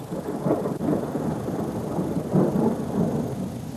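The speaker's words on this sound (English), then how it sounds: "this year has been so bad because we haven't had any nighttime storms. But tonight, look at this, it's brewing." Thunder from a nighttime electrical storm in New Zealand rumbles steadily with rain, swelling and easing in broad rolling waves, loud and fairly close, with no voices.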